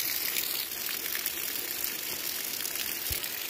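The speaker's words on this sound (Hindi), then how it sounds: "मस्त स्रोत यहाँ पे भी फूटा हुआ है पानी" Natural spring water in the hills of Mukteshwar flowing steadily from a mountain source after days of rain, a continuous broad rushing wash that stays fairly close and even throughout, with no talk over it.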